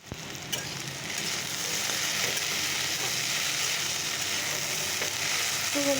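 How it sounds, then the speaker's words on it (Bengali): Okra sizzles as it fries in a pan, a steady bright crackle that swells after the first second and holds constant, with an occasional stir and no talk. "ভেন্ডি ভাজাটাও বসিয়ে দিয়েছি"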